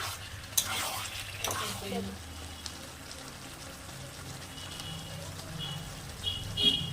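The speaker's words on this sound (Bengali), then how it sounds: "এরকমভাবেই আমি অল্প অল্প করে কষিয়ে নেব মাংসটা" Mutton is sautéed in a pan, giving a low crackling sizzle with a couple of stirring scrapes early on and a faint hiss throughout, with no talk.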